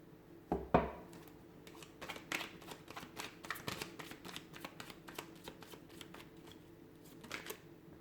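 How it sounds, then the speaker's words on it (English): Tarot cards shuffled by hand, a quiet close run of rapid papery riffles and taps with a sharper knock near the start, continuing steadily for several seconds without speech. "we'll go ahead and give the cards a shuffle"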